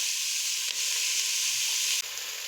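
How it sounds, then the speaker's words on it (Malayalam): Onion, carrot and potato sauté in a pan for duck stew, producing a loud, steady sizzle close by that is briefly disturbed twice by stirring, with no one speaking. "സവാള ചെറുതായി വാടുന്നവരെ ഇളക്കി കൊടുക്കാം ക്യാരറ്റും ഉരുളക്കിഴങ്ങും ഇതിനോടൊപ്പം ഇട്ട് വാട്ടാം"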